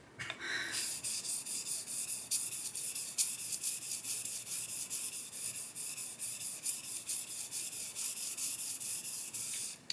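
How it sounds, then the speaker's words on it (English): A Focus frameback straight razor strokes back and forth on a Shapton Pro 1.5k whetstone, producing a steady, close, hissing scrape with rhythmic surges as each pass alternates direction, heard alone. "Going forward, the sound is a little more brighter, and then coming backward, it's kind of dull."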